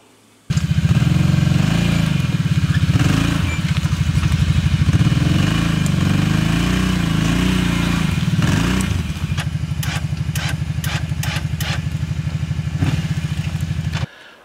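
ATV four-wheeler engine running steadily while riding along a trail, a loud, continuous near drone with a few rattles and clanks toward the end, no talking.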